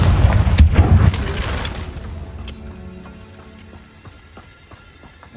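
A Confringo spell blast in Hogwarts Legacy, one loud booming explosion up front that rumbles and decays into a fading tail with faint scattered crackles.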